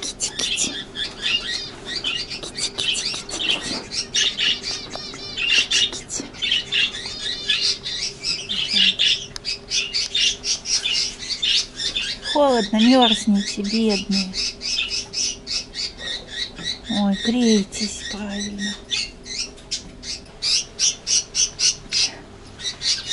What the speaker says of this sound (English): Here are parrots, some other birds, I don't know the name.